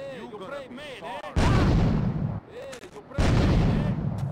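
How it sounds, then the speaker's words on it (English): Two heavy grenade blasts from Grand Theft Auto, each a loud booming burst with a rolling tail, separated by a short lull, following a brief stretch of warbling game sounds. "You hear that grenade?"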